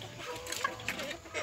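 Bantam chickens and guinea fowl clucking on a rural smallholding, a few soft close clucks and chirps over faint farmyard background, brief and fairly quiet.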